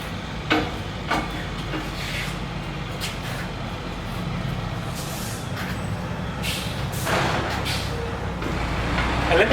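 Vehicle towing a Lone Star Grillz Large IVS smoker trailer with a competition cart and off-road pack around the block: a steady low engine and road rumble with occasional brake hisses and rattles, rising slightly toward the end.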